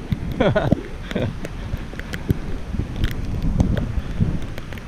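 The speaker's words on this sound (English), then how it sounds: "it's pouring rain" Steady broadband hiss of heavy rain pouring down in the Mentawai Islands, a constant wash with scattered louder spatters and faint voices in the background.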